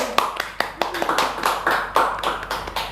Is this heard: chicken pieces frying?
no